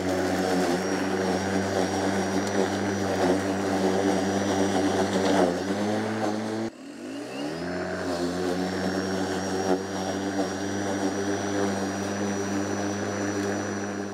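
LawnMaster 15 inch cordless lawn mower cutting grass on a home lawn, a steady high motor whine with a brief dip and recovery in pitch midway as the blade bites into the grass, running close and continuous throughout.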